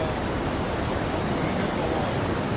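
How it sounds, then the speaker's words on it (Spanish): A river flows at the confluence of Las Guácaras and the Bao near Mata, rushing as a steady, dense wash of water close by with no breaks. "y este es el río Bao."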